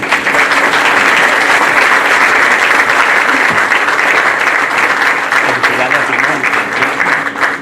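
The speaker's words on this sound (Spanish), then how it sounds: "solicito un caluroso y merecido aplauso" A crowd at the inauguration of a replica of the yacht Granma breaks into sustained, loud applause, a thick continuous roar of clapping that holds steady for the whole stretch.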